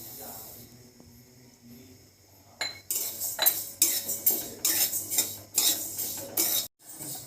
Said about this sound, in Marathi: प्रथम आपण जाड बुडाच्या कढईत जवस मंद आचेवर भाजून घेऊया।